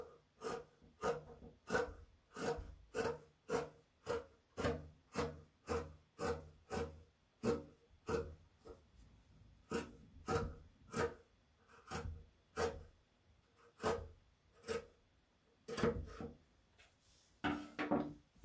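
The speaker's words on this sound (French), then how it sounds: "je vais recouper la patte de boutonnage" Fabric scissors trim a button placket for a jacket, giving a steady run of close, crisp snipping strokes roughly twice a second, with no talking.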